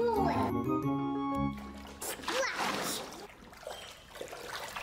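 Children splash and play with water poured from buckets into a wheelbarrow, wet splatters and trickles mixed with a voice and some musical tones near the start.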